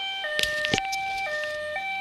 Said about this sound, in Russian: Скорая помощь мчится туда.